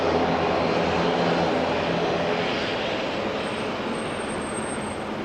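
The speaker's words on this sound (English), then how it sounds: "ATR engine sounds good" An ATR turboprop airliner engine at Auckland International Airport, a loud, steady broadband roar with a faint high whine, sustained throughout and easing slightly toward the end, no talking.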